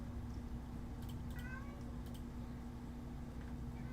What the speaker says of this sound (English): I don't know what she's meowing about.